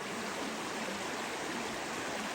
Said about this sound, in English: The water swings around here and goes in deep on the bank.